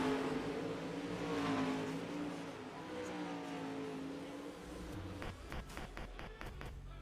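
Several dirt late model race cars rev their engines during a short warm-up session at a Midwest Racing League season-ending race, a steady mid-distance roar with rising and falling pitch, then sharper sputters and bursts near the end.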